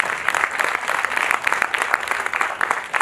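Applause from a crowd of NSS volunteers at a Republic Day camp session, steady dense clapping throughout, fairly loud and continuous with no talk over it.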